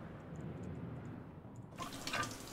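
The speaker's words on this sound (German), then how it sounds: "Schauen, hier ist Wasser, hier ist die Dusche." Shower water running steadily in the Mars survival game Stationeers, a soft continuous spray that grows slightly brighter and louder near the end.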